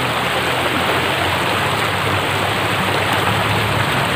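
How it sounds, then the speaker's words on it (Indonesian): Flowing river water by a village in Tasikmalaya, a steady broadband wash of stream noise that stays constant and fairly loud throughout with no voices. "di suasana sungai"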